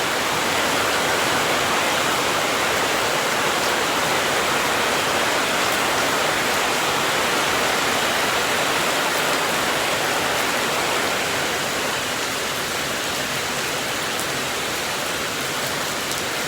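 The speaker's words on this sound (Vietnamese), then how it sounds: "trời mưa rất to nhé mọi người" Heavy rain pours down steadily as a dense, loud, unbroken hiss that carries on through the whole stretch without a pause.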